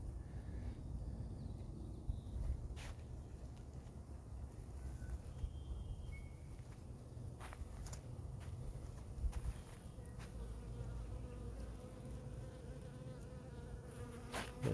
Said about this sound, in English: Got bees everywhere